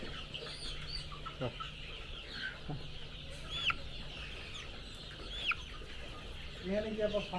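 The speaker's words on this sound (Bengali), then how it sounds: "এই যে এটাই হচ্ছে মূলত ফার্মি মুরগি মিশরের জাত" Fayoumi chickens, an Egyptian breed with white and black plumage, cluck in a farm setting in Narayanganj, giving a few soft, moderately near calls over steady background noise, with a brief voice near the end.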